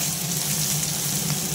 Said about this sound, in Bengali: আলুটা ভাজা ততক্ষণ আরও কয়েকটা লুচি ভেজে নিই